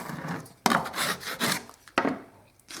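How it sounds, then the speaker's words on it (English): Fine sandpaper rubbed over an MDF skirting board in a few uneven strokes, each starting with a sharp scratch and trailing off into a dry rasp, close and fairly quiet with brief pauses between passes. "And then give it a good sand. Fine sandpaper."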